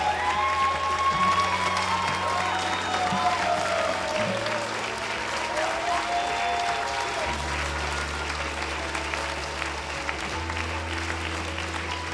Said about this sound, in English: Let's give another big hand of applause to Dr. Chung-Shik Yong.